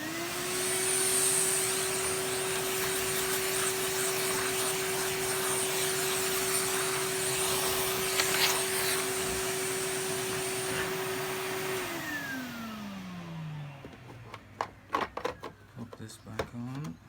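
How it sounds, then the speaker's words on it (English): A vacuum cleaner runs steadily with a sustained whine while vacuuming out a Miele U1 automatic washing machine, then winds down in pitch and stops, followed by clattering handling noises; talk occurs alongside. "Let's give this a vacuum out."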